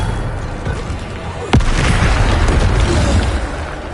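A Bombarda explosion spell going off in Hogwarts Legacy, one sharp, loud boom about midway that cuts into a dense, continuous roar of battle noise.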